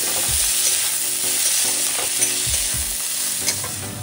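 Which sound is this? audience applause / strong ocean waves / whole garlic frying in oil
whole garlic frying in oil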